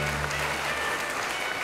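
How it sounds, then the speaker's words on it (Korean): An audience at a formal commemorative gathering breaks into a brief burst of dense, sustained clapping to welcome a guest speaker to the stage. "박수로 모시겠습니다"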